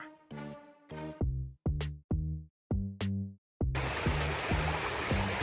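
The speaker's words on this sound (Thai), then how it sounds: "อันนี้คือลำธารหน้าที่เราค่ะ" A stream in the Khao Yai national park area: after a run of plucked musical notes, a steady rushing wash of flowing water rises up and continues under the music to the end.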